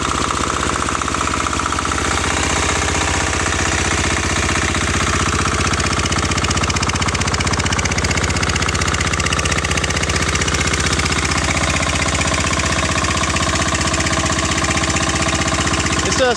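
A turbocharged diesel engine on a motorcycle build runs steadily, with a dense, continuous knocking clatter and a constant hum, loud and close throughout with no talking.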